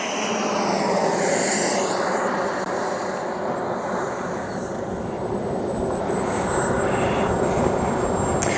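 An Elite Aerosports BDX radio-controlled jet coming in to land, its turbine a steady loud rushing roar with a faint high whine, holding level throughout without any voices.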